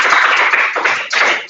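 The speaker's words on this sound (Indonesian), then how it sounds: "Tepuk tangan buat yang bisa menjawab tadi." Classroom applause for students who answered correctly during an Islamic religious education lesson, a burst of many hands clapping close and loud, dipping briefly before a second surge.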